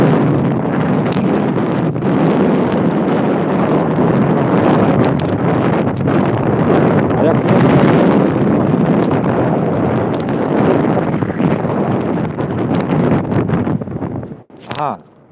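Wind buffets a microphone on Ainsdale Beach, a loud continuous roar with gusty bursts that swell and ease before dropping off near the end.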